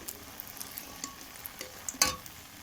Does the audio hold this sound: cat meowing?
no